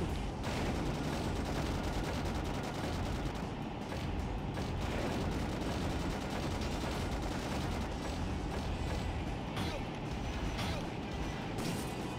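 Rapid bolt gunfire in a randomized Sonic game: a dense, unbroken barrage of overlapping shots and mechanical clatter that stays loud and continuous throughout.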